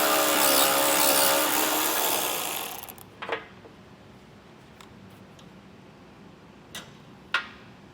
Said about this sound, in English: we'll have to take our 10mm socket and remove the nut that's holding each one of them on